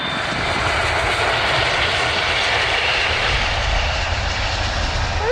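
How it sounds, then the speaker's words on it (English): A fixed-wing airliner comes in to land at Manchester Airport, its engines producing a continuous, loud, broad roar that holds steady throughout without voices. "there's a plane coming in"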